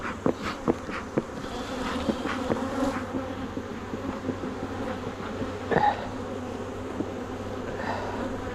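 Honeybees buzz densely and steadily during a beehive inspection at an apiary. The swarm hum is close and continuous, with scattered clicks and handling knocks throughout.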